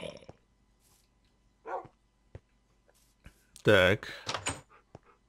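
A Minecraft dog gives a few short, scattered barks and yips among quiet clicks and thumps, while someone says a brief word.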